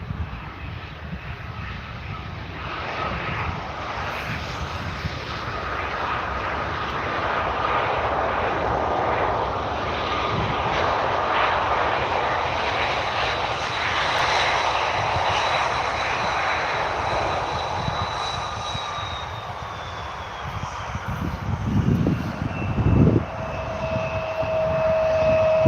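An unmarked airplane passes at Manchester Airport, its jet engines roaring steadily for a long stretch with a slowly falling whine, then a louder rumble near the end, heard from a spotting area, with no talking.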